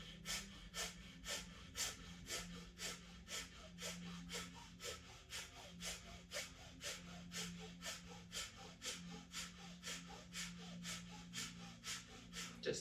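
Rhythmic, forceful exhales are pumped through the nose during a breathing exercise, dozens of quick, even breaths close and clear over a low steady background hum.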